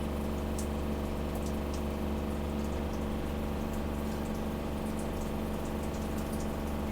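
Water runs steadily from a Gasland CG360LP propane tankless water heater, a constant close rushing flow with a low pump-like hum underneath and no talking.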